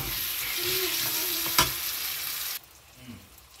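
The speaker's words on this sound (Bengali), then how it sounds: "এটাকে ভালো করে মেশাতে হবে।" Vegetables for veg pulao, seasoned with biryani masala, sizzling in a pan as they are stirred and mixed, a steady close frying hiss with a sharp scrape midway, then the sizzle drops off abruptly near the end.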